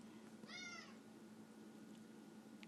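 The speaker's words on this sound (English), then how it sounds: "I don't know why she's meowing." A house cat gives a single drawn-out meow, close and clear, over a steady low electrical hum with no talking.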